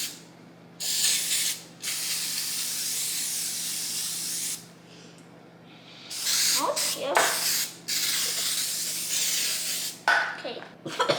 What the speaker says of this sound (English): we are going to spray the pan.